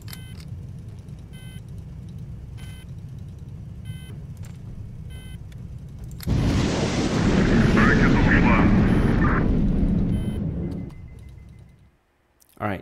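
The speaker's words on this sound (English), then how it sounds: "let's take out the airplane carrying group with these missiles" Missiles launch at an aircraft carrier group in the HighFleet naval strategy game, a loud sustained roaring rush that bursts in after a quieter droning hum with faint ticks, holds for several seconds, then fades away.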